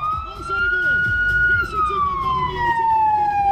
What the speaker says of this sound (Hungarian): akkor ilyen hangot ad a sziréna.